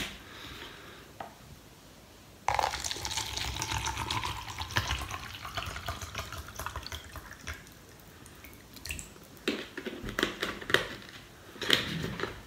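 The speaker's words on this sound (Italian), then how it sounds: "Iniziamo subito con riempirci un ottimo bicchiere di acqua." Water pours from a tap or bottle into a drinking glass, a close splashing and gurgling stream that starts abruptly and runs unevenly with a few drips and clinks, no voices.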